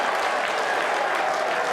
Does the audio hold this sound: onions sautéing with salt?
no